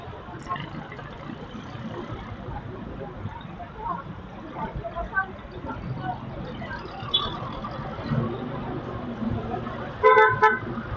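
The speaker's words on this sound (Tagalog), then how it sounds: "medyo matraffic dito sa Ortigas" Heavy traffic in Ortigas in the Philippines: a constant low rumble of cars and idling engines, with scattered short toots and a cluster of sharp horn honks near the end.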